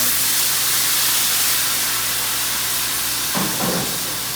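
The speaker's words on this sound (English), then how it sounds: "I'm going to dump this into a really hot pan" Marsala wine hits a very hot pan with a loud, continuous steam hiss, dense and close, broken near the end by a couple of brief bubbling spits as it reduces.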